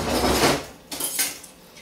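Food being dropped into a kitchen container standing in for a pan, giving a rustling scrape followed by a few light clinks and knocks of dishware, close up.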